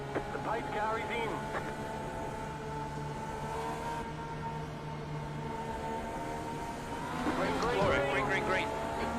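Race cars in the iRacing sim racing game played in VR: steady whining engine drone with shifting pitch, swelling louder near the end as cars pass close, with a voice talking over it.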